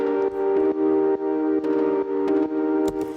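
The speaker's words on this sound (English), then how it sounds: "you hear this little kind of delay slap thing happening" Sustained synth chords with a short Valhalla delay slap echoing each time the chord changes, giving a gentle pulsing movement, no voices.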